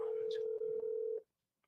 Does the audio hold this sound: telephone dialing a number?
yes